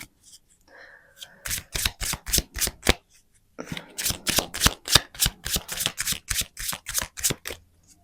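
Lenormand tarot cards shuffled by hand in quick riffling bursts, two runs of sharp rhythmic flicks separated by a short pause, close and clear with a brief low voice murmur at the start.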